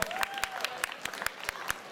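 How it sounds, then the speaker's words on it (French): Steady rhythmic clapping from a crowd at the closing of the Casetas de Pau festival, beating in unison at a quick, even pace, with a faint tone ringing underneath. "On peut applaudir bien fort, hein, s'il vous plaît."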